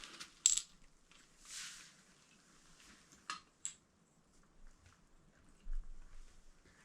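Small tabletop gaming dice rattle and clatter onto a hard surface in a few quick, sharp bursts, close and fairly quiet, with brief pauses between the clicks.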